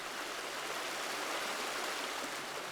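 River water flowing at a camp makes a steady, even rushing hiss with no breaks. It is moderately faint and uninterrupted, with no talking.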